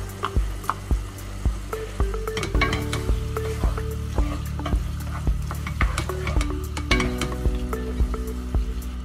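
Cuttlefish, squid, shellfish, scallops and scorpionfish frying in a pan: steady loud sizzling with repeated stirring clinks and scrapes throughout, close up, no talking.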